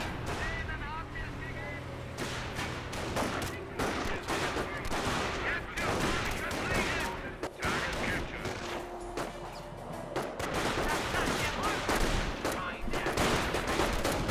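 Gunfire strikes a Jeep in a Company of Heroes battle, sharp repeated shots and bursts crackling among steady combat noise with a voice commentating throughout.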